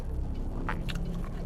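Pandesal bread roll being bitten and chewed close up, soft crunchy bites and mouth sounds over a low steady background hum.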